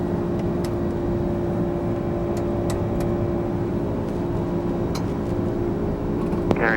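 Lockheed L-1011 Tristar jet engines roaring steadily through a takeoff climb, a loud, constant broadband drone with a strong steady tone, heard from inside the cockpit with no talk.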